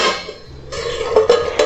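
A lid is set onto a pot of pumpkin curry on the stove, giving a few light metallic clinks and rattles after a soft stirring scrape, close and fairly quiet.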